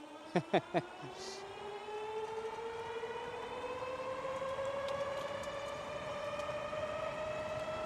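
A Velotric Fold 1 Plus folding e-bike speeds up on throttle alone, its motor whine climbing steadily in pitch over a constant rush of wind, with a few short beeps at the start.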